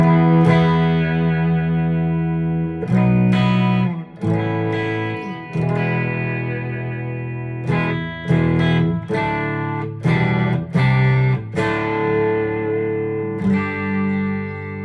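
Soloking MT-1 FM Custom 24 Tele electric guitar on its bridge pickup, played through a Nano Cortex with light reverb: loud, sustained distorted chords and notes ringing in successive strummed phrases, without talk.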